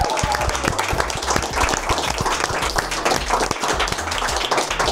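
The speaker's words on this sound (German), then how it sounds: "Ein großer Applaus, Dankeschön." Applause with clearly separate individual claps over a steady bed of clapping, close and moderately loud, as a small group keeps clapping throughout.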